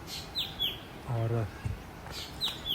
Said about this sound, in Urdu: پرندوں کی آوازیں سن سکتے ہیں، پرندوں کی آوازیں